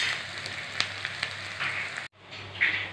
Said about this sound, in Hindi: प्याज को लाइट ब्राउन होने तक पका लेंगे